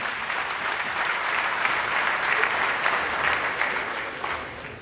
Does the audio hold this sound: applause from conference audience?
yes